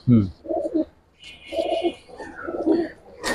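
Giribaz pigeons coo close by in a loft, several short throaty coos in quick succession with brief gaps between them.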